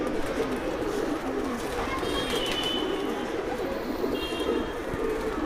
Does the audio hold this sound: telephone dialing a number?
no